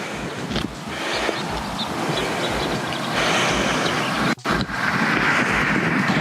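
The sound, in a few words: truck driving past outdoors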